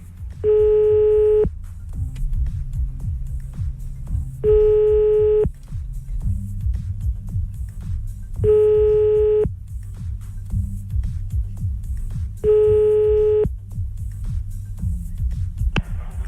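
Phone ringing tones while calling back: four evenly spaced electronic ring bursts about every four seconds over a low background hum.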